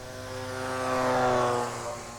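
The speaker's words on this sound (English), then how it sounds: "the sound of that motor is unlike any motor I've ever heard before" A small electric motor on an FT Simple Cub model airplane whines past in a quick flyby, its high buzzing tone rising to a peak and then easing off, fairly faint.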